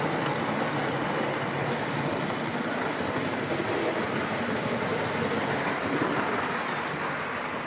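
A continuous rumbling rush of a model train's wheels on a home layout track, steady and fairly close, with no voices over it.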